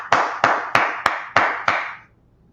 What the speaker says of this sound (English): Let's clap it up for the brotherhood and the sisterhood.